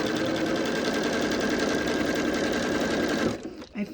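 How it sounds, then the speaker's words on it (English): A sewing machine stitches a quilt seam, running as a loud, close, steady rapid whir for about three seconds before stopping. "I'm actually going to flip the top one and sew it"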